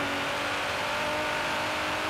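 Car engine accelerating in Forza Horizon 3, a steady loud whirring engine note pulling hard through the revs.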